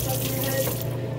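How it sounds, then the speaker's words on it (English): Tap water runs steadily into a sink as a gloved hand is rinsed under it, a brief close splashing stream with no talk. "Wash my hand, rinse my glove off."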